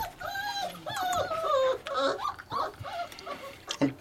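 Kutta puppy whimpering in high, wavering cries while being lifted for feeding during weaning, several close whines running on and off through the whole stretch.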